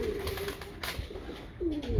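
Teddy breed pigeons cooing in a loft, soft repeated coos close by with a few wing rustles and light background noise.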